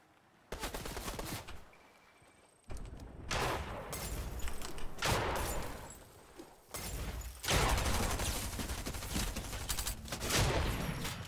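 Bursts of rapid gunfire from the video game Fortnite, loud and close, coming in several separate volleys with brief quieter gaps between them.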